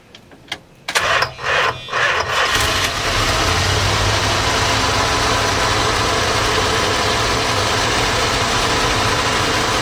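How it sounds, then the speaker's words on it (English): A 1976 Dodge Travco 270 motor home with a Mopar 440 big-block gasoline engine cranks in a few uneven bursts, then catches and settles into a loud, steady idle close by, with no talk. "It does have a Dodge, I guess, a Mopar 440 big block engine, gasoline."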